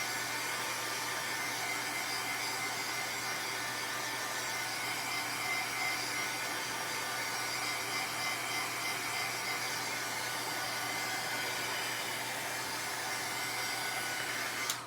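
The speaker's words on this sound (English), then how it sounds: "Now take your heat gun, and archival ink dries very quickly," Heat gun blowing steadily to dry archival ink on a handmade card, a continuous airy whoosh with a constant hum underneath, fairly close and unbroken for the whole stretch.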